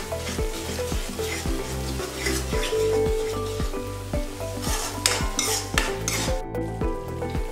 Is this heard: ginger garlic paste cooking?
yes